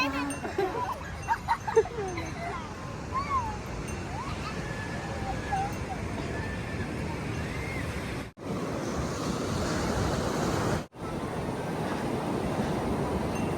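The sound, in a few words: sea waves on the shore at Gokarna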